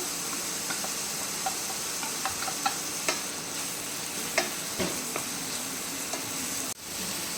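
Capsicum and onions stir-frying for dry manchurian give a steady close sizzle with scattered light taps and scrapes of a spatula, and one sharp knock near the end.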